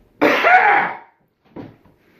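A cough and throat clearing in a podcast studio just before recording starts: one long rasping burst, then a shorter second one after a brief pause, close and loud.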